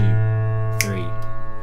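Keyboard plays broken chords through their inversions while the bass stays in root position. Sustained, ringing harmonic tones hold steady, with fresh notes struck near the middle and again shortly after, alone and close.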